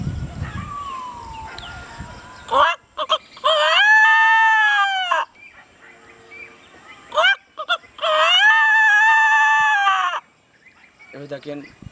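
A man mimics a rooster crowing, giving two long loud drawn-out crows close up, separated by quieter breathy sounds.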